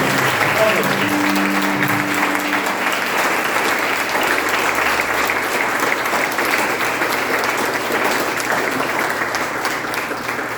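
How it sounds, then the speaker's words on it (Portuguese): A church congregation bursts into sustained, dense applause during a worship service, many hands clapping steadily for about ten seconds, with faint music or voices beneath at the start. "dá uma salva de palmas bem bonita"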